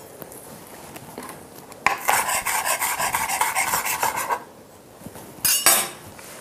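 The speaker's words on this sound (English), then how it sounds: "And then I'm just gonna chop some chives" Knife chopping chives on a board: a quiet start, then a dense burst of rapid rhythmic cutting clatter lasting a couple of seconds, a pause, and a shorter final flurry, close and loud.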